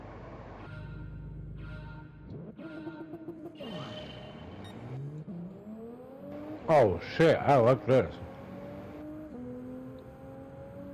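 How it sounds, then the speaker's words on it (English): Gran Turismo 7 GR4 race car engine revving in rising harmonic sweeps with repeated gear shifts, loud and close, while excited voices talk and exclaim over it. "The sound of this engine."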